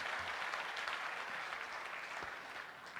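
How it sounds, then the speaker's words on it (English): Dense applause from an audience at an investment event inauguration in Dhaka, a continuous wash of many hands clapping that fades slightly toward the end, with no one talking over it. "give a big round of applause to all the 167 applicants"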